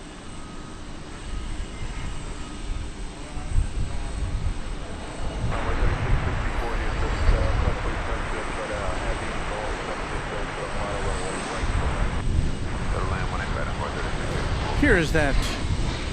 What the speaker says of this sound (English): UPS flight from Austin that Douglas Serrano alerted us to earlier